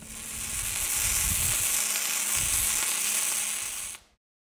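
Flux-cored arc welding with the gun dragged backhand along the workpiece, a close, steady crackling sizzle that holds for about four seconds and then cuts off abruptly.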